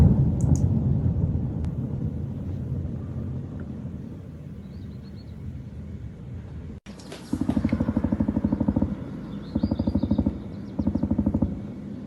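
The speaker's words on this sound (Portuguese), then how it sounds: "dá para ouvir uma explosão logo no início" Distant low rumbling gives way to a sharp bang from an ATACMS missile strike at Cape Shcholkine, Ukraine, followed by several rapid bursts of automatic gunfire in short volleys.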